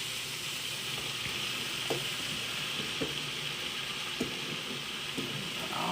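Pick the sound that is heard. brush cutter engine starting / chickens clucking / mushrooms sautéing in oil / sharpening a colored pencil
mushrooms sautéing in oil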